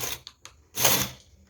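Knitting machine carriage knitting a lace row, with a few brief mechanical clicks followed by a single swooshing, rattling pass of the carriage that fades off.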